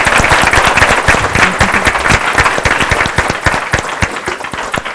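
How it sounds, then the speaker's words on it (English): Close, loud round of applause from an audience at a STEM mentoring event in Indianapolis, with individual sharp claps standing out in a dense rhythmic patter that thins slightly toward the end. "So we can give them a round of applause for a great effort."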